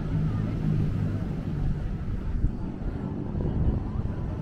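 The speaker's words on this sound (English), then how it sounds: "Kind of windy day." Strong wind at the Blackpool seaside buffets the microphone in a constant low rumble, gusting slightly louder at moments, with distant waves blended underneath.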